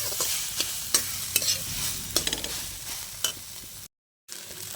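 Nuts being stirred and fried in a pan for a vegetable chop curry, a crackling sizzle with repeated sharp scrapes and clacks of the spoon, close, briefly cut to silence near the end.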